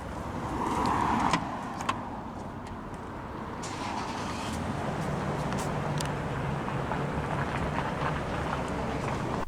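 A 2014 Hyundai Sonata SE with a 2.4-liter engine and dual exhausts runs steadily just after start-up, a constant close rumble with a slightly louder opening second and no voices.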